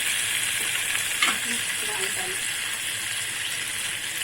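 Small fish fry in a pan with lemon, making a steady, moderate sizzle and hiss with a brief clatter early on and faint tonal sounds mixed in.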